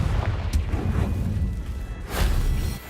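Two crackling booms from a Confringo fire curse in the Hogwarts Legacy game, the first a quick sharp burst and the second a heavier blast, both over a constant low rumbling backdrop.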